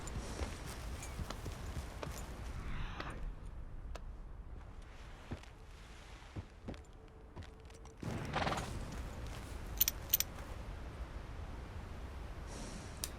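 Horse hooves and snorts from a horse in the game Red Dead Redemption 2, clopping steps and breathy snorts at moderate volume against a low background rumble.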